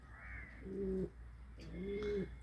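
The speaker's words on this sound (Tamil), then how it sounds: "புறா" Two soft, low pigeon coos sound close by, each a short throaty warble, with a faint higher call before the first.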